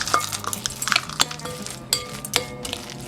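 Banana and oat keto cookie dough being stirred in a bowl, with irregular clinks and scrapes of a utensil against the dish, close and fairly loud, spaced in uneven strokes.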